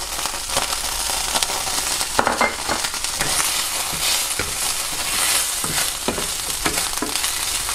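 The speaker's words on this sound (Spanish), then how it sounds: "Y en este mismo aceite echamos los ajos." Garlic sizzling in oil in a pan just used to sear fish, a steady close crackle and hiss with occasional sharper pops and stirring scrapes, no talking.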